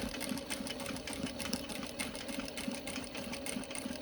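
A sewing machine stitches denim for a pair of jeans, its needle running in a fast, steady rhythmic chatter, close and continuous throughout.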